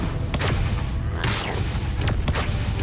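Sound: gunfire from a gun in the video game Geist

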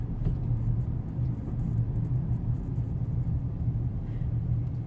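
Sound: car driving up onto a weighbridge at the rubbish tip

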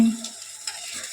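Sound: eggplant and masala frying in oil while turned

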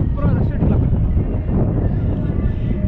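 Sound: strong wind blowing on a hilltop

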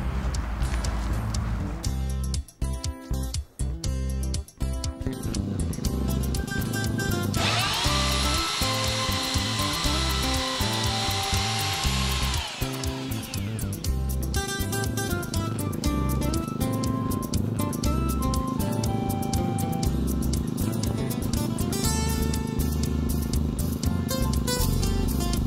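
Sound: powered auger drilling holes in the ground for telegraph poles

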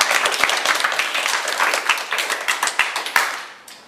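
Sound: children clapping

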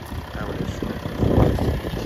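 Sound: Audi A5 2.7 TDI diesel engine idling at low revs

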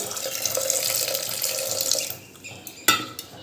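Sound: water being poured into cooking pot for ghugni

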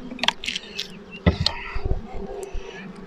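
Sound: honey bees buzzing at an opened hive

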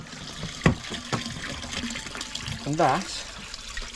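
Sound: water flowing through koi quarantine tank filter

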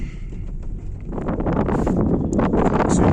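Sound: wind whistling

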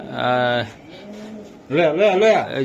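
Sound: pigeons cooing

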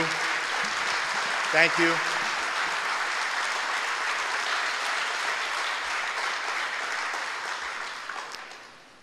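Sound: audience applauding first responders

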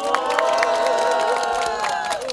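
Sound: crowd applause and cheering

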